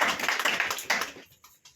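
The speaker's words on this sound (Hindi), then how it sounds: "ये ताली बजाएं जो भैया के लिए" A church congregation at an Indian Sunday service claps for a brother, a quick run of dense, bright claps lasting about a second before trailing off into a few scattered taps.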